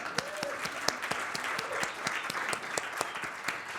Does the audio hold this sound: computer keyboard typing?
no